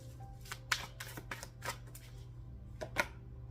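Tarot cards are shuffled nearby in a few brisk riffles and taps, with a couple of sharper snaps standing out against a faint hum.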